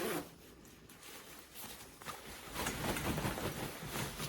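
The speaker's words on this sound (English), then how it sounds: "So I put it in the zipper and I'm pulling it up." The inner lining zipper of a jacket is drawn up in a few short, rasping pulls. It sounds close and quiet, grows louder toward the end, and has no talking over it.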